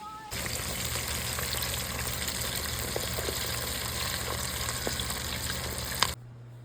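Freshly caught bass frying in hot grease, a continuous crackling sizzle with scattered pops and a low hum beneath, steady throughout before cutting off abruptly near the end.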